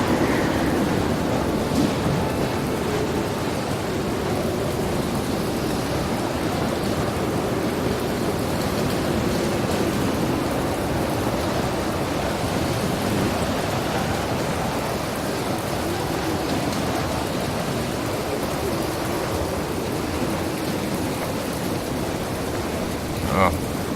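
Rain keeps falling in the video game Planet Explorers as a steady, moderately loud wash, with occasional distant thunder-like rumbles and a few faint clicks. No one speaks.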